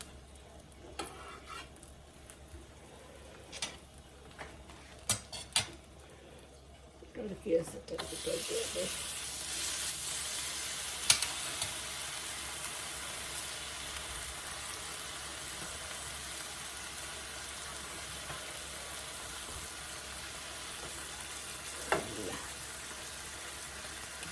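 Food frying in oil in a frying pan whose oil runs to one side; a few clatters and knocks come first, then a steady bright sizzle holds throughout, with faint voices now and then.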